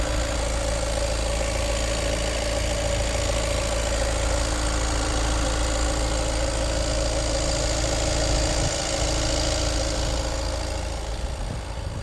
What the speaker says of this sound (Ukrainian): Двигунчик працює ідеально, рівненько, просто нова машина.